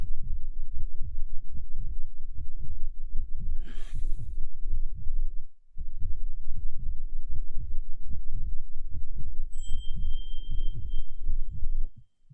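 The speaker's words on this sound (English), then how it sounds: "your heartbeat is so loud." A loud, steady heartbeat sound effect thumps in a fast, even rhythm from start to finish. It drops out for a moment in the middle, and a brief hiss and a thin tone sound over it.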